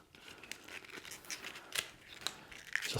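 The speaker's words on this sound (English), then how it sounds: "And we can even fold the leaves" Paper tulip leaves are folded and creased by hand, making quiet close crinkles and crisp snaps scattered irregularly, with no talk.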